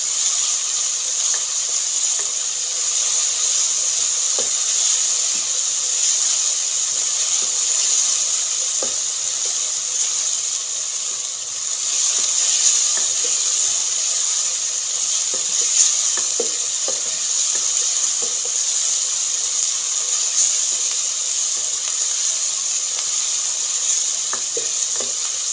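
Eggplant frying in a pan for achari baingan, a steady bright hiss of oil over the whole stretch with scattered soft ticks and occasional stirring scrapes, fairly loud and unbroken, no speech.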